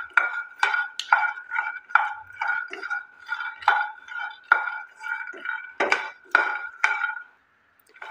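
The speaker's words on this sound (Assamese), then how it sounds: "মিডিয়াম ফ্লেমত এইদৰে ভাজি এইদৰে ফাটি যাব।" Peanuts roasting in a pan over a medium flame crackle close by, with irregular sharp pops and ticks bursting out steadily and a few louder cracks near the end.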